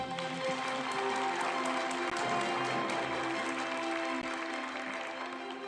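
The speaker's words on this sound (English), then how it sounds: "A big round of applause" An audience at a regional educators' awards and scholarship ceremony applauds honorees, a continuous distant wash of many hands clapping, fairly quiet and even throughout.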